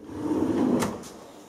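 A kitchen cabinet drawer with a soft-close mechanism slides out, giving a smooth rolling rumble followed by two short, light clicks as it stops, all close and moderately quiet.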